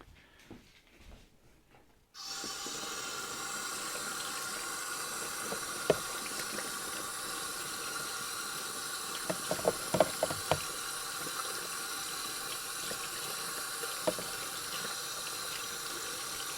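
Running tap water splashes steadily into a sink while a Turner No. 4 1/2 smoothing plane is washed under it. Occasional metallic clinks and knocks of the plane body sound against the flow. A short quiet stretch comes before the water starts.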